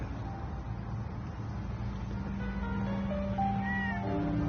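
A cat meows several times in the Fallout 4 game world, short rising cries standing out over a low ambient hum and faint background sounds.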